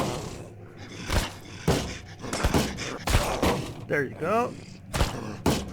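Gunshots in the Mist Survival survival game, several sharp cracks spread across a few seconds, fairly close, with players talking over the shooting.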